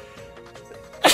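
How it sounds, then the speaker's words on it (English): A single sharp sneeze bursts out at the very end, close and loud, after a stretch of quiet game music in a gaming recording session. "I've sneezed 3 times during this record session"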